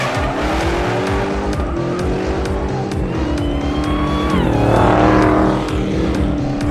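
A Dodge Demon drifts on a race track, its loud engine roaring with changing pitch as the tires squeal and skid continuously, swelling louder near the end with no voices.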